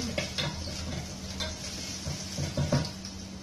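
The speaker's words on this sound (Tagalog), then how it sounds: "Igisa na natin yung bawang." Garlic sautés in hot oil in a pan, a soft close sizzle with occasional light stirring clicks and scrapes and no voices.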